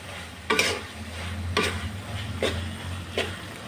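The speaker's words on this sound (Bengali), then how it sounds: "ঠিক এইভাবে কন্টিনিউ আপনাকে নাড়তে হবে" Chepa shutki cooks with Malabar spinach greens in a pan, a low steady sizzle punctuated by four sharp, evenly spaced spatula scrapes against the pan, close by and with nobody talking.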